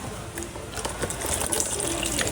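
Water splashes and gushes from a homemade DIY chicken waterer. The flow is a sputtering, bubbling trickle that grows fuller and more turbulent over a couple of seconds, heard up close, with faint background voices.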